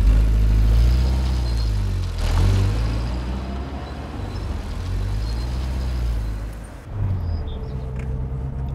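A Peugeot 504 GL drives along with a steady, close engine hum and road rumble, the pitch rising and falling as it accelerates and shifts, with no voices over it.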